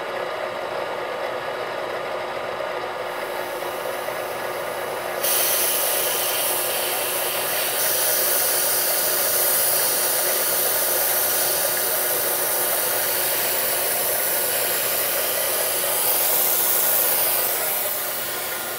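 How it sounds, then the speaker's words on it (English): Coolant mist spraying from a nozzle while a toolpost grinder runs on a lathe, a steady broadband hiss that rises and thickens partway through and then holds on, loud and continuous with no talk over it. "I'm going to set this up and get some coolant going here. I don't need very much air, just coolant basically."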